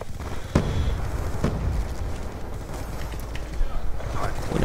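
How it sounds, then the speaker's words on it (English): A Hellstorm missile strike explodes in Black Ops 2 multiplayer, bringing a sharp blast followed by rumbling, debris-filled noise. A second burst comes about a second later, with continuous loud low-end roar under faint game chatter. "Hellstorm missile inbound."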